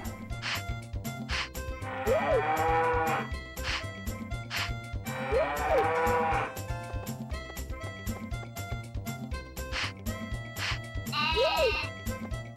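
Cows in Harvest Moon 64 call out in three bleating moos spaced across the clip, each rising and falling over looping game music.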